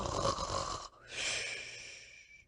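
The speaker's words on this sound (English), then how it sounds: "listened attentively to the snores. They were very loud indeed, but seemed quite natural." Loud snoring from a sleeping badger in a Beatrix Potter tale, one long rasping inhale that cuts off, then a breathy whistling exhale, close and alone.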